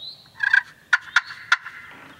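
A turkey slate call worked with a striker: a few raspy yelps, then three sharp, loud cutting clucks spaced evenly apart, close and alone.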